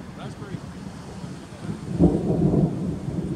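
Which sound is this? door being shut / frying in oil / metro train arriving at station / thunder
thunder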